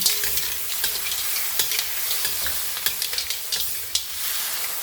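Seafood and eggplant omelette reheats in a frying pan, giving steady sizzling with repeated sharp scrapes and taps of a utensil stirring against the pan, close and alone without talk.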